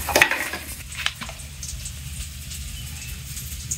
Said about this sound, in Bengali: মরিচ গুঁড়া একটু জল দিয়ে একটু কষিয়ে নিলাম